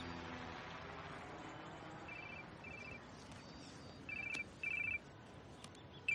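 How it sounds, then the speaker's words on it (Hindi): A phone rings quietly in a room, a few short repeated electronic ring bursts in pairs that grow slightly louder toward the end, set against low background hum with no voices. "पलक का फोन उठाऊं?"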